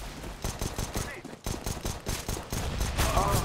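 Rapid bursts of automatic gunfire from a teammate in Counter-Strike, repeated regular shots filling the clip at close range and fairly loud, with game sounds layered underneath.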